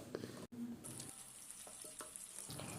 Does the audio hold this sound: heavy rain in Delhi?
no